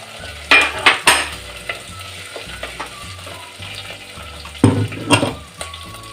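Garlic paste and green chillies sauté in a pan with a close, steady sizzle, punctuated by a few loud scraping strokes of a spoon at the start and again near the end.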